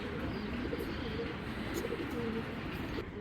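Belgian racing pigeons coo in a loft, soft repeated throaty calls overlapping in a low rhythmic murmur, several birds close by with faint chirps and no talking.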